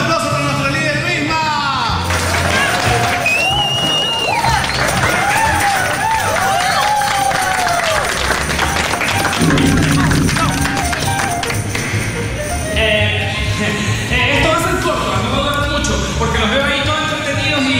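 An audience applauds and cheers for a leader at the start of a meeting, a loud crowd of clapping and shouting voices with people talking over it throughout.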